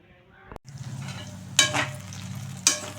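Brinjal pieces cook in oil in a pan, a soft steady sizzle after a brief clatter, with two bright scraping bursts as they are stirred.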